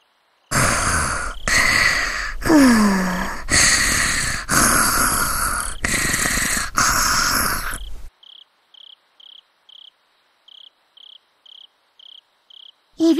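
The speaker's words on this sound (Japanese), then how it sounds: "いびきがかわいいのですよ。" Rhythmic snoring from a sleeping character in a visual novel game, a series of loud drawn-out breaths in steady cycles, followed by a quieter run of short evenly spaced chirping tones.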